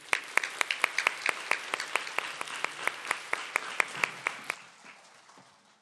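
Slow, rhythmic clapping from a church congregation at a Sunday university-group worship service, about twenty evenly spaced claps that stop abruptly, leaving faint room noise.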